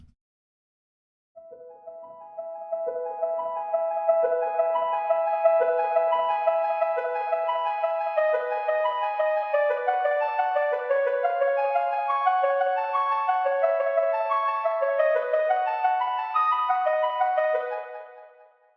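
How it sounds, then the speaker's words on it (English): A bright synth arpeggio of rapid repeating notes fades in and continues steadily, with echoing tape-style delay from Logic smearing the notes together. "I arpeggiated that, but also added a little inbuilt tape delay from Logic"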